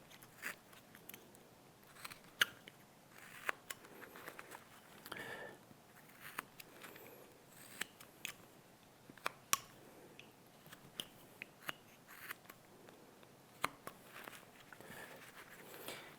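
Knife making small rocking cuts into a wooden Santa Christmas ornament, quiet scattered crisp clicks and scrapes at irregular intervals, close and faint.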